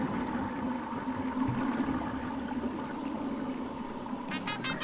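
A toilet flushes in the Yooka-Laylee video game after a piping puzzle: a steady rushing, gurgling stream of water runs throughout at moderate level, with a few short rattling clicks near the end.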